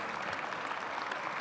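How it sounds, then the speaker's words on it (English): Audience applause during the opening ceremony of UBS Arena, home of the Islanders hockey team, a steady, fairly faint wash of clapping from a large crowd with no voices on top. "Let's give that a round of applause by itself there alone."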